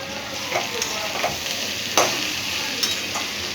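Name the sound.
cabbage being stir-fried for veg chowmein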